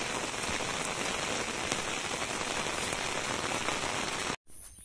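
Heavy rain pours steadily in a Bihar village, a dense, constant hiss of drops hitting surfaces close by, running nearly unbroken until a sudden brief cutoff near the end.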